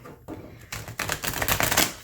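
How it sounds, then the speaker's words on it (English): Crisp, rapid fluttering clicks of a trimmed, still-stiff Lover's Path Tarot deck riffle shuffling, building into a dense rattling burst that ends with a soft settle, close and fairly quiet. "Let's go ahead and give it a shuffle"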